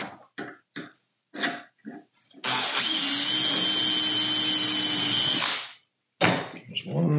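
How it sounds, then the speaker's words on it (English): A drill bores a 6mm hole using a Clamex drill jig on an angled bookcase shelf, a loud steady high whine lasting about three seconds, bracketed by someone speaking before and after. "I'm going to use the outside surface to drill my 6mm hole for the wrench"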